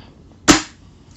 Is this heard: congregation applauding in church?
no